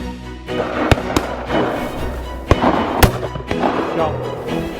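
Sharp loud shotgun reports crack out across the cold Derbyshire countryside, several distinct blasts over a few seconds with noisy outdoor rumble between them.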